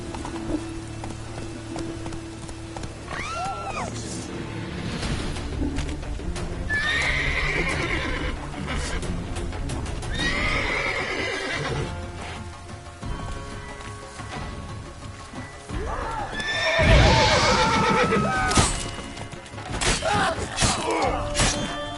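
A horse in The Witcher III gallops with steady clip-clop hoofbeats and lets out loud neighs and whinnies, with thuds and scattered game effects mixed in.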